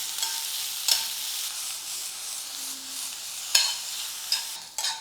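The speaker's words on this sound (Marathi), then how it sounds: "तर पॅनमध्ये थोडंसं तेल घेऊ त्यामध्ये घालायचं आहे कांदा कांदा चांगला तांबूस रंगावर भाजूया" Onion frying in a little oil in a pan, browning for a Maharashtrian katachi amti masala: a steady close sizzle with occasional scraping stir clicks, no talk.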